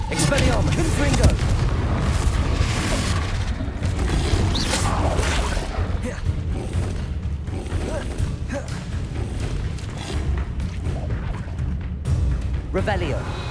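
Confringo fire spell blasts in the video game Hogwarts Legacy, booming explosive bursts layered over dense, loud combat effects that carry on throughout, with voices over the action.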